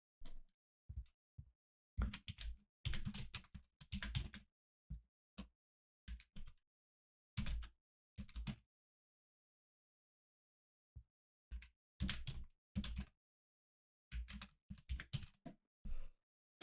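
Bursts of computer keyboard typing come close and clear, quick clattering runs of keystrokes separated by pauses and a long silent gap, while a GitHub repository name is entered; no voice is heard.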